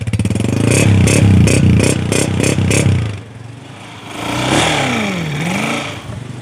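A 2012 Honda 125 motorcycle engine revs hard and loud up close with a rapid pulsing beat, then drops to a lower idle before a brief rise and fall in pitch.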